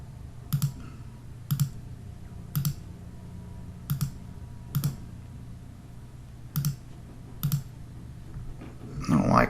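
Computer mouse clicking while editing a web page, about eight sharp, close clicks spaced roughly a second apart over a steady room hum, with a brief burst of voice at the very end.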